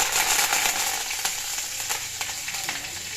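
Curry leaves sizzling loudly in hot oil with popping mustard seeds for a green chilli theeyal, a steady close frying hiss with small crackles, no talk.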